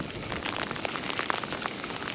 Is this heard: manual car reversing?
no